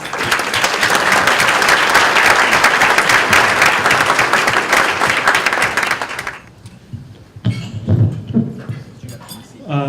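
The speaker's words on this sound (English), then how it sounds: "please, round of applause please for Alex." An audience at a lunchtime summit applauds: dense, loud clapping for about six seconds, then it fades into scattered claps and shuffling.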